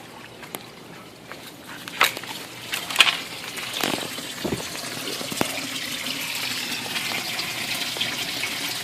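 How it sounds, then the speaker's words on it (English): Water gushing and draining through a 3/4 inch siphon pipe in a homemade aquaponics system, a steady rushing flow with a few splashy surges near the start. "It's going to start draining soon, and I'm going to shut it off to get maximum effect."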